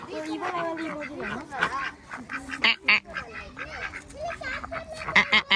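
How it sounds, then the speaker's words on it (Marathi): Ducks at a water park in Hampi quack repeatedly in short, uneven bursts, fairly close, mixed in with people talking nearby. "बदका भेटला बघा बदका"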